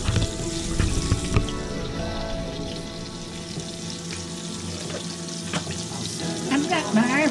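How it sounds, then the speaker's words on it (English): Vegetables frying in vegetable oil in a skillet, a steady close sizzle and crackle throughout with no talking. "I thought I'd fry these in the skillet today. Put some vegetable oil in it."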